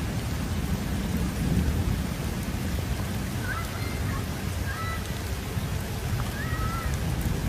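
Heavy rain pours steadily during a thunderstorm, a dense continuous hiss with deep rumbling thunder underneath and faint distant horn-like tones now and then.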